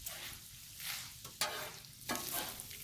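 Cabbage and sausage sizzle on a Blackstone griddle as a spatula stirs and scrapes through them, with a constant frying hiss and a couple of sharper scrapes, close by and with no speech.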